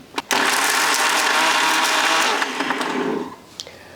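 Kitchen mixer grinder blending jaggery and gram flour, starting with a short burst then a loud steady whirring motor for about three seconds before winding down and stopping.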